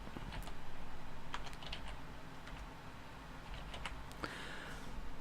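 Typing on a computer keyboard during a Minecraft FTB Infinity Evolved Skyblock session, with scattered quick key clicks and short bursts of taps, close and fairly quiet over a low background hum.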